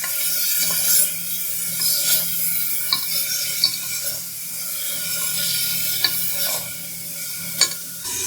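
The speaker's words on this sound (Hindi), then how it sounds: "इसको हम 5 मिनट के लिए अच्छे तरीके से फ्राई कर लेंगे।" Beef pieces fry in a pan for Peshawari namkeen gosht, giving a steady close sizzle broken by repeated scraping and clinking stirs.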